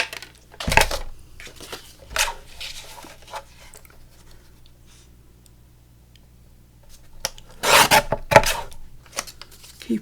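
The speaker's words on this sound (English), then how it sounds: "So let's trim this down." Paper being trimmed for a Tim Holtz–inspired lapbook journal, close and fairly loud: a few separate bursts of cutting and rustling, the heaviest near the start and again toward the end, with no talking.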